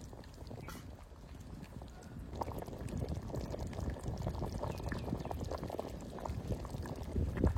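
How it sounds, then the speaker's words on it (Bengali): A pot of silver carp fish curry with elephant foot yam simmering on the stove, a steady close bubbling and soft boiling hiss that continues throughout with slight crackles. "মাছ দিলাম তো, তরকারিটা জাল হোক, তারপরে নামিয়ে নেবো"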